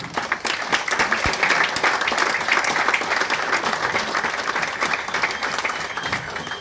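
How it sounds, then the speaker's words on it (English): An audience at Sunil Gavaskar's book launch applauds in a sustained, dense burst of clapping that fills the room at an even level for several seconds, with no speech over it. "clap him and wish him"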